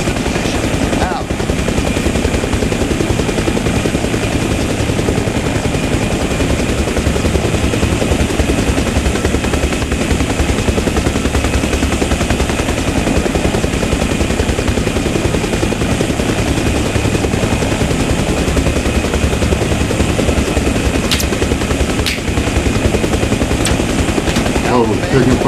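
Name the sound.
gunfire in the video game Arma Reforger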